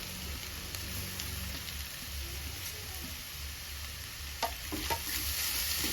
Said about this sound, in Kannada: ಏನು ಕಟ್ ಮಾಡಿರೋಂಥ ಕ್ಯಾಪ್ಸಿಕಮ್ ಇದೆಯೋ ಆ ಕ್ಯಾಪ್ಸಿಕಮ್ ಸೇರಿಸ್ಕೊಳ್ತಾ ಇದ್ದೀವಿ